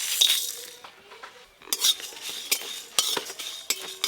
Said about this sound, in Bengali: এখানে গোটা জিরে, মৌরি, ধনে, শুকনো লঙ্কা আর গোটা গরম মশলা নিয়েছি, একসঙ্গে ভেজে নেব